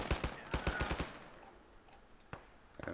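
Rapid bursts of gunfire in the military shooter Arma 3, a quick cluster of sharp shots up close followed by a couple of isolated, more distant cracks against quiet ambience.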